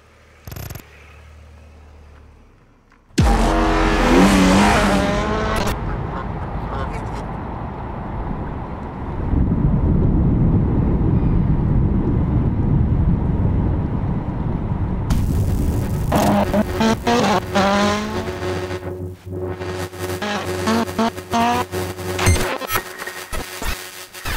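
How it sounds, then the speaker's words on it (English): A Toyota GR Yaris, the WRC-derived road car, drives with a loud, continuous engine roar mixed with heavy wind rush. The pitch shifts as it accelerates and changes gear, with no voices. "Meet the Toyota Yaris"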